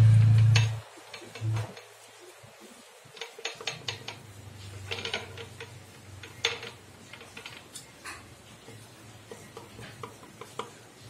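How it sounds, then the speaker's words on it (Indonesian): A rough-running Yamaha Mio M3 125 motorcycle engine knocks and ticks with irregular mechanical clatter, starting with a loud low burst and then settling into a steady, moderately close rattling idle. "Cuman udah bunyi kasar banget mesinnya."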